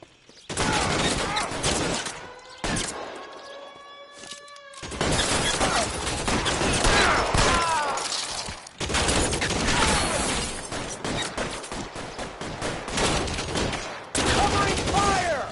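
Gunfire in the LA Noire video game, with bursts of rapid shots and loud cracks spread across the clip, separated by brief gaps, along with shouted voices and game sound effects.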